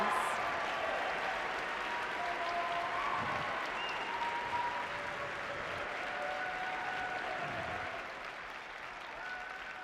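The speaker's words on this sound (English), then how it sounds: "let's give them a round of applause for all of these students who are nominated" Applause from the crowd at a FIRST robotics state championship honors student leadership award nominees, a steady, moderately distant wash of clapping sustained throughout with voices faintly underneath.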